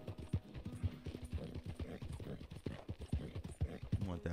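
Horse hooves in the Red Dead Redemption 2 video game beat out a quick, steady clip-clop, fairly loud and close, while someone talks over them.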